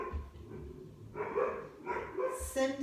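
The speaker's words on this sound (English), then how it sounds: "Now we've got the dogs and the postman." Dogs bark at a postman or delivery arriving at a home during a Pilates class: several muffled, fairly distant barks and yips come in bursts, with a faint voice underneath.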